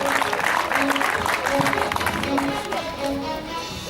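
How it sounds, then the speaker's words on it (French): Crowd applause at a velodrome during a cycling event in Le Mans, dense continuous clapping with tonal voice or announcer sounds running through it, easing slightly toward the end. "mesdames, messieurs, vos applaudissements pour Michael d'Almeida."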